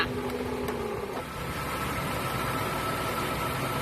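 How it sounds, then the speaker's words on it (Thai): A Honda CR-V second-generation engine with 234,634 km idles with the AC off, a steady, even hum and a faint whine at first, close and constant throughout. "ปิดแอร์นี่คือเสียงเครื่องยนต์นะคะ"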